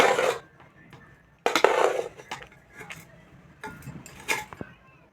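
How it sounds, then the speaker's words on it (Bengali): Jeera rice being stirred slowly in a pot over low gas gives off intermittent bursts of spoon-on-metal scraping and rustling, separated by quieter pauses. "আর আস্তে আস্তে আমি নেড়ে দেব।"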